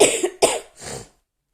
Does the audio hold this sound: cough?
yes